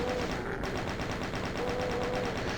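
A chain gun fires in DOOM with rapid, evenly spaced loud shots that run without a break throughout.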